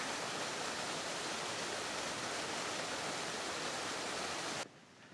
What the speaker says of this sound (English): it's gorgeous with a lot of water flowing down the waterfall